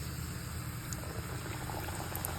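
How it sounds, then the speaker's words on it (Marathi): Khari shankarpali dough frying in hot oil for a Diwali snack, giving a steady, close crackling sizzle that holds evenly throughout with no voices. "मी तेल तापायला ठेवलं आहे तेल तापले का बघूया ते बघा तापल्याने तर टाकून घ्यायचे सगळे"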